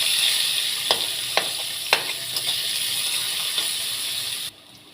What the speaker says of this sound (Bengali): এবার দিয়ে দেবো পেঁয়াজ, ওগুলো লঙ্কা। একটু ভালো করে এটা ভেজে নেব।